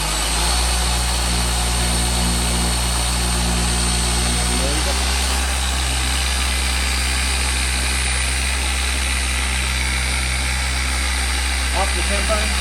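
A car polisher spins steadily against paint, a loud continuous motor whine with a shift in pitch partway through, running under a voice.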